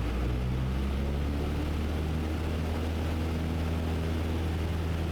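A Cessna 172 engine at full power during takeoff, a steady loud droning roar with a low propeller hum, continuous and close as heard from the cockpit.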